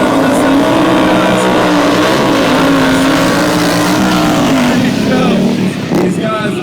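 An Indian Scout motorcycle does a tire burnout at a stunt show, its engine roaring loud and steady at high revs with rising and falling tones, under an announcer's voice and crowd noise.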